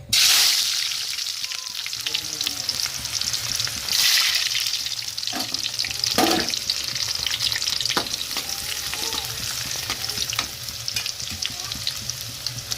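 Onions dropped into hot oil for a curry, a loud close hiss that stays steady throughout, with a few stirring clatters and scrapes of a spoon in the pan.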